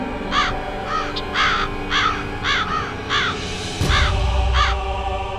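A crow caws repeatedly in a steady series of about nine harsh, nasal calls, fairly close and clear over light outdoor background noise, with a low thump near the end.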